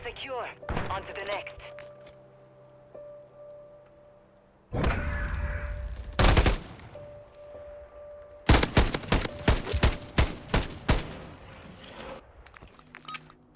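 Suppressed Fennec SMG bursts in a first-person shooter game, several short rapid strings around the middle and a dense run of sharp shots near the end, fairly close, with game ambience and occasional footsteps between.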